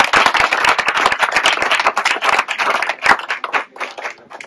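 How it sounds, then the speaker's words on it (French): A crowd at a rural gathering honouring two farmers claps in a lively burst of dense, close hand claps that thin out slightly toward the end. The applause is fairly loud and carries no talk. "On les applaudit."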